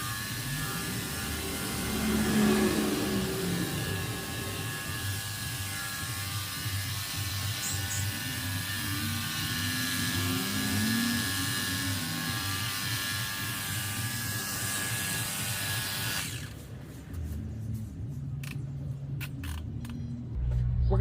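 A portable pressure washer with a rotating nozzle sprays a car, giving a steady hissing, buzzing whoosh that runs continuously for a long stretch before cutting out, leaving quieter outdoor sound with a few brief clicks.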